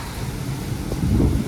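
Loud, steady roar of a strong windstorm with rain, a dense broadband rush that swells slightly near the end, with no voices.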